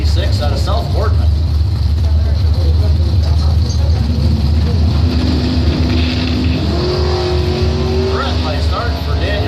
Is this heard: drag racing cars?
yes